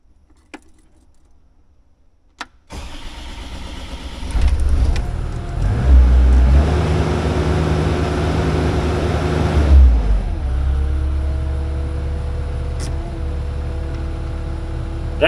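A car engine turns over and catches after a few faint clicks, then revs up loudly, holds a steady high idle, and settles back down.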